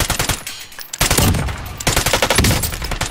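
Rapid machine-gun bursts and gunfire in the video game Call of Duty: Warzone, loud and close, coming in dense volleys with a short lull before the shooting resumes.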